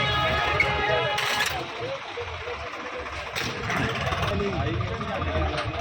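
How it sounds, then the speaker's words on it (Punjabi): A tractor engine idles with a steady low rumble close by while people talk over it. "ਇੱਕ ਟਰੈਕਟਰ ਆ ਗਿਆ ਆਪਣਾ"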